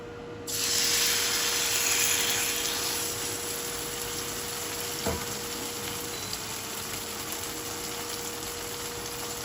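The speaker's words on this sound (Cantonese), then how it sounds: "我哋開始煎雞扒啦" A chicken steak sizzles skin-side down in oil in a frying pan, a steady loud hiss starting abruptly and holding for several seconds, with a steady tone from nearby kitchen equipment beneath it and no talking.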